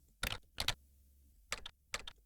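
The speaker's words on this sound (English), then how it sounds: "So here you're gonna have to type the name of your business" Keystrokes on a computer keyboard while a business name is typed, heard as four short bursts of quick taps separated by pauses, close and clear with no talking.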